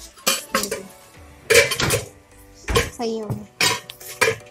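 Steel dishes and trays clatter and clink in a series of sharp metallic knocks and scrapes at close range, while people talk and someone coughs.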